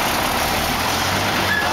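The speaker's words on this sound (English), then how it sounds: "Here comes the truck." A truck rolling along a road near the Nepal border, a steady broadband roar of engine and tyres that stays loud and continuous throughout, with no clear rise or pass-by.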